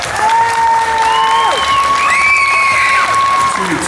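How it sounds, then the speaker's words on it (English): Crowd at a Meatstock game meat masterclass applauding and cheering the day's final presenters, a loud sustained wash of clapping and cheers with whistles and voices mixed in throughout. "Round of applause for our final presenters of the day"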